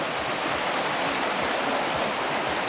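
Moose Brook in Ludlow, Maine, running high and lively after several days of rain, a loud, steady rushing wash of water heard close and alone, with no voices.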